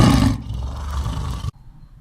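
A lion roars loudly and close, one sustained, rumbling roar that breaks off abruptly and leaves near silence.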